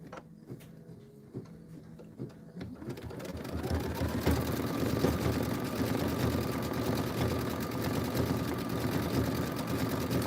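Kimberbell embroidery machine stitching a satin outline in linen thread, a quiet mechanical clicking at first, then a steady rapid whirring hum that rises in level and runs on continuously.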